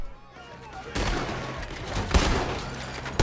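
Gunfire in Red Dead Redemption 2, a dense burst of shots erupting after a quieter start and continuing in loud, overlapping cracks, with a couple of sharper reports near the end.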